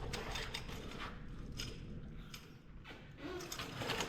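A turned front wheel on a 1987 Cadillac with big rims, the tire rubbing and scraping against the inner fender, giving irregular creaks, clicks and scuffs up close, with no speech.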